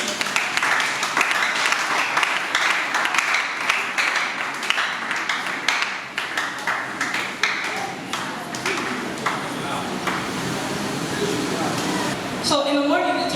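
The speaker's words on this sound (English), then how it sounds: "Let's clap for him as he comes up." Audience claps as a speaker walks on stage at a family planning talk, a steady wash of applause that gradually thins, with voices murmuring underneath and a short bright tone near the end.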